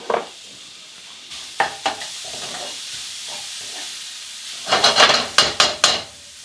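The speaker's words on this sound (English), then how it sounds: "I'm going to add some onion and cook those onions up." Onions cook in oil in a pan, with a low hiss of sizzling under sharp bursts of stirring and spatula scrapes, the busiest scraping coming near the end.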